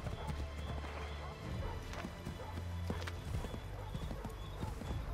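Horse galloping in Assassin's Creed 3, steady rapid clip-clop hoofbeats running throughout at moderate loudness, with a low rumbling game backdrop and occasional snorts.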